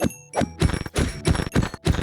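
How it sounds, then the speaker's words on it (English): Cows being hit in Minecraft make a run of six short, punchy thunks at an even, quick rhythm, each close and clear, with no talk. "let's go kill some cows"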